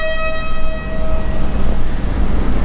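Loud rumbling of a train at Groningen station, with a steady high tone fading out early and a low, continuous mechanical drone.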